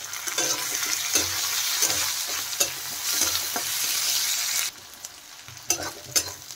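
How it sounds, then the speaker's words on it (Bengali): Green chillies and onions fry with a loud, close sizzle in a pan while a utensil stirs and scrapes; the sizzling drops noticeably about two-thirds through, followed by a few sharp clinks. "দিয়ে দিলাম কাঁচা লঙ্কা।"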